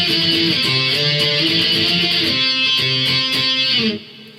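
Electric guitar plays the closing intro fill of a song, a quick run of bright, driven riff notes, loud and close, cutting off abruptly near the end with no talking.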